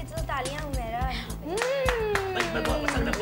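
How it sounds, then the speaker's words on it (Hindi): Bursts of hand clapping ring out over steady talking, with a voice joining in now and then. "तालियां बजाओ तो नहीं, बजाओ ना, जोर जोर से बजाओ"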